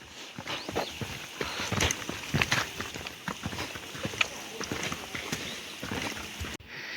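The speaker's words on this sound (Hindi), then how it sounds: "एक बढ़िया घोड़ा घास खा रहा है" A horse grazes in a village field at Noori, Bhaderwah, with irregular hoof thuds and shuffling steps on the ground close by and faint voices now and then.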